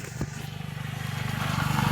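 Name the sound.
motorcycle passing on the road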